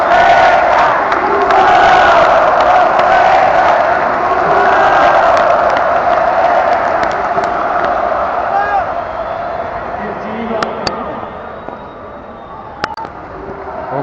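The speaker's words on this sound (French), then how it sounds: "ça applaudit sur les premiers services manqués comme si c'était un point gagné." A tennis crowd at the Rio Open roars and cheers loudly and steadily, with whoops and shouts rising over a dense wall of voices that eases slightly toward the end.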